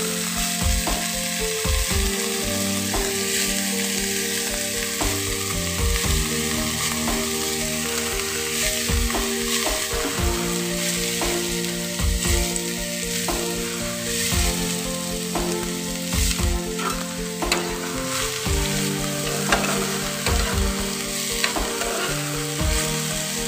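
Mustard greens frying in a pan, a continuous loud sizzle with repeated scraping and clinking of a utensil stirring against the pan, close and without talk.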